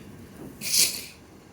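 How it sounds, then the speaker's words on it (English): A London Overground train passing through a neutral section as its vacuum circuit breaker switches, giving one brief, bright hiss that swells and fades within about half a second over a low rumble. "You can hear the noise when passing through a neutral section when the vacuum circuit breaker turns on and temporarily disables the power"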